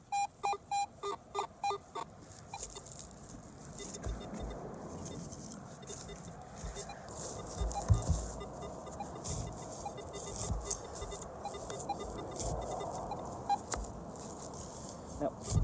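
A metal detector sweeping a backyard for a buried target gives a rapid run of repeated electronic beeps at the start, followed by faint rustling and handling noise with soft scattered sounds.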